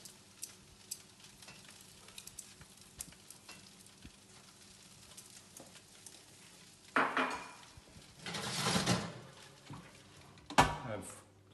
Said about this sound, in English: We'll just turn it over one more time and put a bit of butter on it just to give it a glaze.